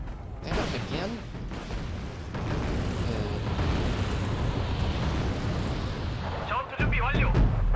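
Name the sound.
artillery bombardment in video game Wargame: Red Dragon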